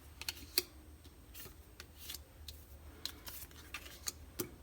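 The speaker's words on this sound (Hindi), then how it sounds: "और इन कार्ड्स को मैं यहाँ साइड में रख देती हूँ।" Tarot cards being set aside on a table, giving soft papery rustles, slides and light taps that come in scattered quiet bursts, close and faint, with no talk.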